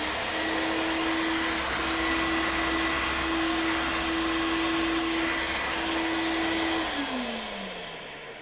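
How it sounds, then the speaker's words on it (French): A sander hooked to an attached vacuum cleaner runs with a loud, steady droning whine and airy hiss that holds evenly, then the motor winds down with a falling pitch near the end. "on entend très très bien l'aspirateur"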